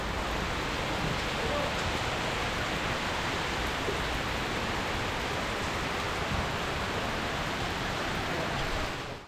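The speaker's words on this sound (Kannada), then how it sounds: "ಆ ಥರ ಫುಲ್ಲು ಮಳೆ ಬರ್ತಾಯಿದೆ" Heavy monsoon rain pours down steadily in the Charmadi Ghat hills, a loud, dense, unbroken hiss that fills the whole stretch without pause.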